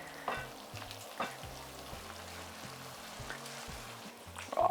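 Cooked pasta tipped into a hot pan for a chicken pesto dish sizzles steadily, while repeated shakes of the pan add soft, rhythmic knocks and scrapes close by, with no talk.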